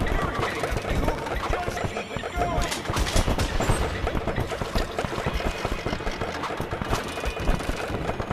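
Target-shooting gunfire in the VR carnival game Carnival Games VR pops repeatedly under busy, steady game noise and music, with a voice talking over it.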